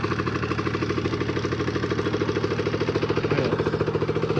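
A Beta RR 50 motorcycle's small engine runs at a steady, rhythmic idle after starting, close and fairly loud, with a brief rev near the end.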